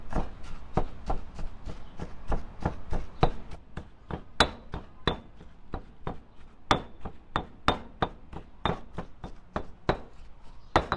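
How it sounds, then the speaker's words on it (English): Steady pounding of steamed fish for a Thai fish cloud salad with green mango, a rapid series of sharp thuds, close and fairly loud, with no talk. "And now we'll pound all of this."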